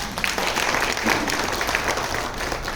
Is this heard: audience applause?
yes